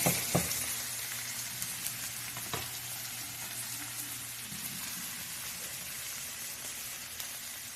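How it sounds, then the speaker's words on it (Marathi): Onion and bell pepper sautéing in a pan for a yogurt capsicum curry give a steady close sizzle with a few stirring clatters near the start, no voices. "या पद्धतीने कांदा व मिरची व्यवस्थित परतून घ्यायचे"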